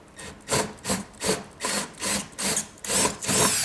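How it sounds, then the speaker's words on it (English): Rhythmic rasping strokes cut into timber while drilling through two pieces, eight or so evenly paced bursts, close and steady, with no talking. "Hold this, going to drill through both."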